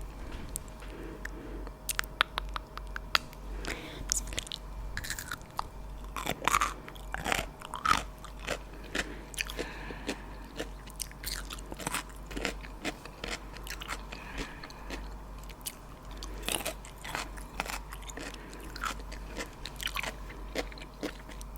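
Someone eats pickled cucumbers up close, with repeated crisp bites and wet crunching chews in an irregular rhythm over about twenty seconds and no talking.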